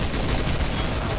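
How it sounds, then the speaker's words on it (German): Gunfire in Garry's Mod Trouble in Terrorist Town, a rapid, dense burst of shots filling a brief moment with no talk over it. "Warte, wer schießt da?"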